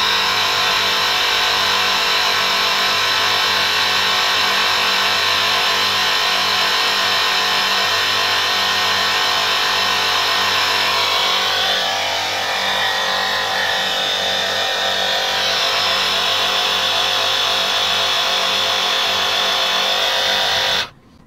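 A FOWAWU portable battery-powered 12V car tyre air compressor runs steadily at close range with a loud, continuous motorized buzz and whine that holds for about twenty seconds, then cuts off abruptly at the end.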